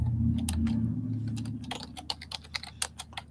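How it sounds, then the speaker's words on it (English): Rapid clicking of typing on a computer keyboard, close and fairly loud, with irregular bursts of keystrokes over a low background hum, the taps growing sharper and more distinct toward the end; no one speaks. "Who's typing?"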